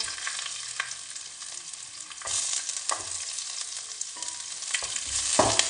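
Steady, crackling sizzle of onion frying in a pan, broken by intermittent scraping and stirring knocks.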